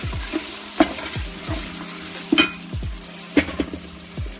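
Meat and garlic sizzling in a pot for a shabzi stew, a steady close frying hiss with repeated scraping strokes of a spoon stirring through the pan.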